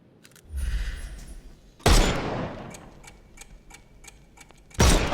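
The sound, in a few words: gunshots in video game Sherlock Holmes Chapter One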